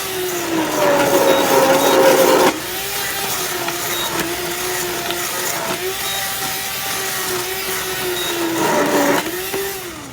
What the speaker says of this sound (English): you can really submerge the blender